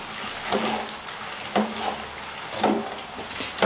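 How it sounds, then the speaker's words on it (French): Almonds stirred around a hot pan for praline, with a steady low sizzle and a few scraping, clattering strokes recurring about once a second. "Et on remue toutes ces amandes et on les recuit."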